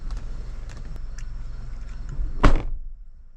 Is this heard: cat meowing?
no